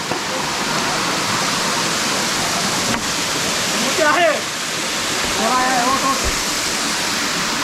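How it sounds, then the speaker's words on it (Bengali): Steady roar of a nearby waterfall in the Rangamati hills, Bangladesh, fills the whole stretch, with brief voices talking over it midway. "নিচে যে ঝর্ণা"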